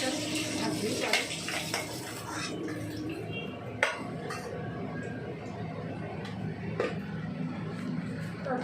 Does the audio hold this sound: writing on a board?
no